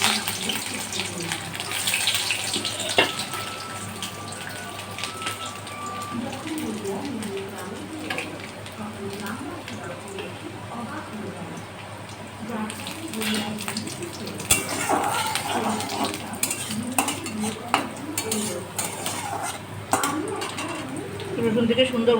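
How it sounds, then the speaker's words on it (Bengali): Garlic cloves dropped into hot oil already seasoned with black cumin, giving a steady hiss and crackle of frying under a low hum, with occasional clinks of utensils against the pan. "এবার আমি রসুনগুলো দিয়ে দিচ্ছি।"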